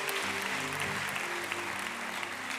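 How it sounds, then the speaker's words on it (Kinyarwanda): A church congregation claps together in sustained, dense applause that runs steadily through the whole stretch at a moderate, fairly distant level, with faint voices beneath. "amashyi menshi ku mana yacu"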